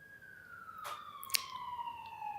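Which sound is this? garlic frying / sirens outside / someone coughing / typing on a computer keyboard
sirens outside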